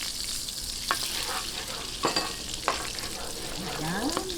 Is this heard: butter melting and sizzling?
yes